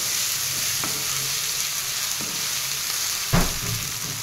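Turmeric stirred into masala frying in a kadai, a steady broadband sizzle throughout with a few scraping stirs of a spoon against the pan, one louder scrape near the end; close, no talking.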